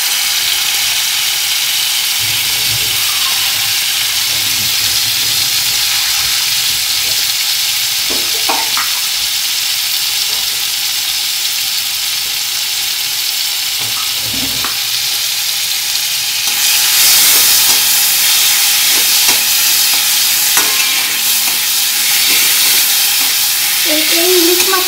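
Hilsa fish fat frying in hot oil, a loud continuous sizzle close up with occasional spoon scrapes, the hiss growing stronger partway through.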